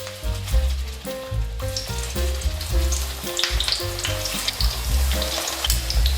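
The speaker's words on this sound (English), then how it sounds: "We can fry our eggplant." Eggplant slices fry in hot sunflower oil, a loud, dense sizzle that crackles steadily throughout with tonal background music underneath and no speech.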